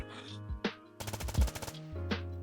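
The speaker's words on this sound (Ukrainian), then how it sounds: "Спробуємо постріляти приціл на ближню дистанцію чергою на 20 метрів." A short rapid burst of 9x39mm rifle fire in DayZ rattles out mid-clip at 20 metres, bracketed by a couple of single sharp reports, fairly quiet overall.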